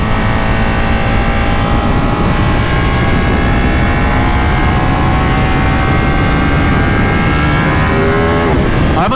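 A loud, close Ducati 959 Panigale sport motorcycle engine roars steadily while riding, its tone climbing through the gears, with heavy wind rumble throughout.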